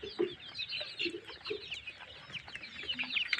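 Native desi chickens clucking and chattering in a small open rearing space, several birds calling close by in irregular overlapping bursts.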